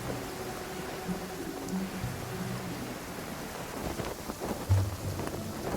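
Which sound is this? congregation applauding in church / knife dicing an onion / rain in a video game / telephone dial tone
rain in a video game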